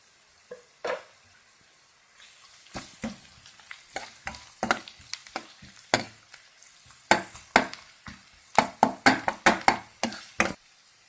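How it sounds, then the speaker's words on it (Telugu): Mutton keema fries in a pan, with a low background sizzle broken by sharp, irregular clicks and scrapes of a spatula stirring against the metal, growing busier toward the end. "కొంచెం ఫ్రై అయ్యే వరకు ఫ్రై చేసుకుందాం"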